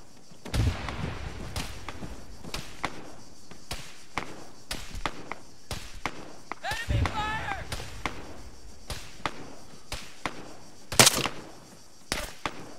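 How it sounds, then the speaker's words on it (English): Gunfire in the combat video game Arma 3: a string of sharp, scattered shots and thuds at irregular intervals, some loud and close, others fainter, with a brief voice partway through. "I don't know where the gunfire's coming from."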